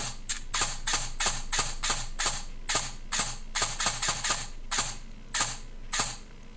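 Airsoft MK18 electric gearbox with precocking set on high cycles in quick, irregular bursts of sharp mechanical clacks, close and crisp over a faint steady motor hum, with no voices.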